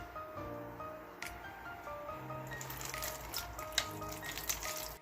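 Water trickles and splashes through a cut straw onto a small model water wheel, a soft irregular gurgling and dripping, close and fairly quiet, with light clicks.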